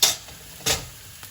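Mushroom fry with garam masala and cinnamon powder being stirred in a pan, heard as two short scraping sweeps with a soft sizzle underneath, fairly close and alone.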